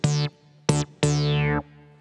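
Classic funk synth bass with a filter sweep, from a song cover in MainStage: three sustained notes, the last held longest, each with a bright sweep that dips downward, close and alone.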